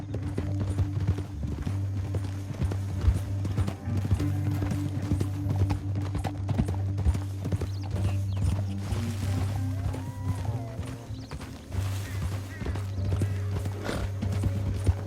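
Rapid clip-clop of horses' hooves galloping beneath a droning, tonal background, with an occasional whinny rising over the steady pounding rhythm, in the video game Red Dead Redemption 2.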